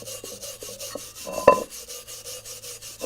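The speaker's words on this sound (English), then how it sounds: "I'm going to hit them here with a wire brush just to knock off some of the rust here a little bit" A wire brush scrubs rust and scale off metal in rhythmic back-and-forth rasping strokes, close and moderately loud, with one sharper scrape in the middle.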